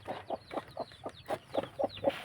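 Chickens, including a hen sitting on eggs, cluck softly in a coop, about nine short clucks in a loose, steady rhythm, fairly faint with no talking.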